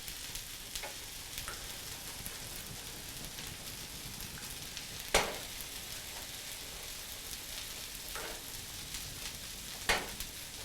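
Lemon-thyme brussels sprouts browning in a hot pan give a steady, hissing sizzle throughout, with a few sharp pops and crackles breaking through.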